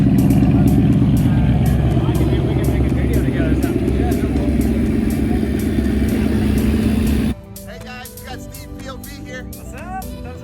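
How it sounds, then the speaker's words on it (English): Several Ford Mustangs idle together at an outdoor car show, making a deep, continuous rumbling burble with a loud, close throb. The rumble drops away suddenly near the end, leaving quieter background chatter. "Guys, listen to all the Mustangs fired up. Listen to the gurgles."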